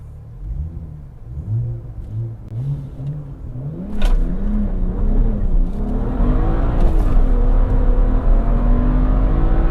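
A tuned BMW 1M Coupe with an N54 engine and Stage 2+ tune launches hard to 100 km/h. Loud revs rise and fall in quick repeated surges with wheel spin, then sharp gear changes lead into a sustained climbing roar.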